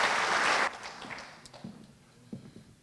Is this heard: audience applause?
yes